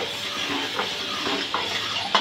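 Roasted gram flour being stirred into sunflower oil in a bowl for Mysore pak, a soft steady scraping with a few sharper clinks of spoon against the bowl, close and alone without talk.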